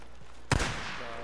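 A single sharp, loud gunshot rings out in the zombie-survival video game Days Gone, with a short echoing tail, set against quiet game background sound.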